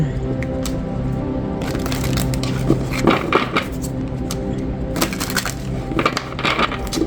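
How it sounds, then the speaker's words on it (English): Crisp riffling and snapping of tarot cards being shuffled, in several bursts of flicking over a low background hum. "Let's get a couple of shuffles in."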